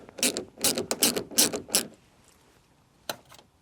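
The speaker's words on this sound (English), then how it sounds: "So let's loosen that bolt" A ratchet turns a Torx T15 bolt loose on the door handle of a Ford Mondeo Mk3: five quick, close ratcheting bursts, a pause of near silence, then one final short click.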